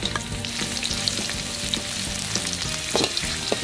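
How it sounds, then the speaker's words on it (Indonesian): Thinly sliced garlic, shallots, chili and roughly crushed ginger sizzle steadily in hot oil, with light clinks and stirring scrapes over the constant frying hiss. "Sekarang kita goreng bumbunya."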